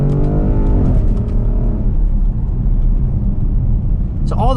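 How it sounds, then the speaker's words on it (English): A 2014 Porsche Cayenne GTS SUV engine revs and drops through a downshift, a loud, close, continuous roar from inside the cabin that settles into a steady drone before another sharp rise at the end. "I can downshift one more time with the right side, and I can also upshift with the left side right here."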